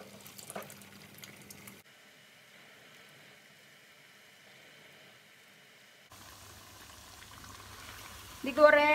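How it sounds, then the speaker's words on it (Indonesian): Tofu-filled egg rolls deep-frying in hot oil, a quiet bubbling and sizzling that changes character partway through, with a faint voice toward the end. "Digoreng dengan minyak panas."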